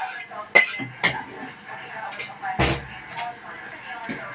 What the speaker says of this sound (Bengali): দিয়ে খুব ভালো করে ফেটিয়ে নেবো।